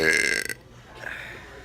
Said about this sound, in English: today I'm doing deli burping